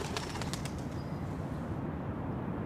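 Pigeons flapping their wings in flight, a dense rustling flutter of feathers with brief bright bursts early on, moderately loud and steady, with no coo clearly standing out.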